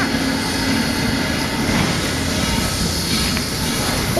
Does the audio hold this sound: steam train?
yes